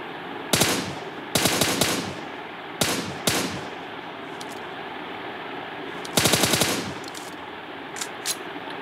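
Bursts of rapid gunfire sound effects during pretend shooting play, several sharp clusters of rattling shots separated by short pauses, with a few faint single pops near the end, no talk.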